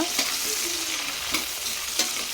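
Sliced onions and green chillies frying in oil in a pan for chicken biryani, a constant sizzle broken by three sharp scraping strokes of a spoon stirring.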